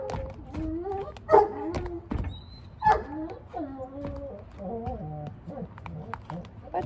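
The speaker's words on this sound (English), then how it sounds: "stop barking!" A dog barks in short bursts indoors, with a person talking over and between the barks throughout.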